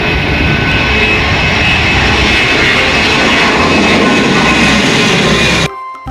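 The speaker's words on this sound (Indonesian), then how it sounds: "Wow, pesawat terbang teman-teman." A loud, steady roaring toy airplane engine sound effect fills the clip, broadband and continuous, cutting off abruptly near the end.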